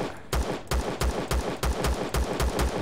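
Gunfire in Empyrion Galactic Survival, a steady rapid series of about nine loud, punchy shots in even rhythm, close and alone without talk.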